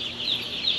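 Broiler chicks in a brooder peep continuously in a dense, high-pitched chorus, close and steady.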